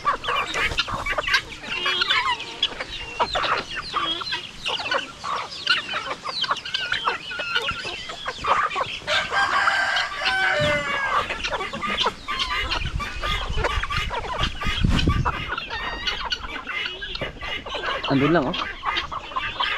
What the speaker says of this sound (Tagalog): Marami po tayong mga lalaking panito, manok.